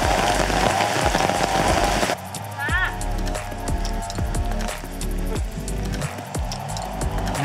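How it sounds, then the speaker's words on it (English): Heavy rain pours in a dense, steady hiss near the Chocolate Hills in Bohol, Philippines. It drums close and loud at first, then continues slightly softer with scattered drips and light knocks. "And it started raining. It is pouring."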